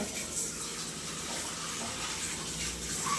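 Tap water running steadily while dishes are washed at a sink, a soft continuous splash and gush heard close by with no talk.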